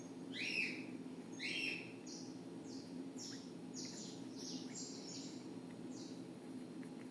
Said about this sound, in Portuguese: Os passarinhos hoje estão que estão ali.